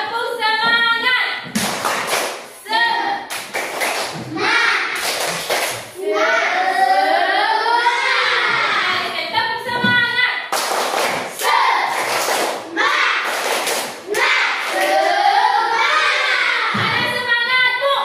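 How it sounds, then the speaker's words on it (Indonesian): A group claps together in rhythmic bursts, with lively shouted voices between and over the clapping. "Tepuk semangat."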